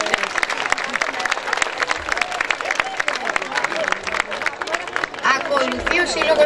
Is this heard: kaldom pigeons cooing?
no